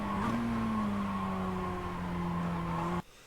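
Mazda MX-5 race car in iRacing at Circuit de Ledenon, accelerating with a steady, slowly shifting engine drone heard from close by, until the sound cuts off abruptly near the end.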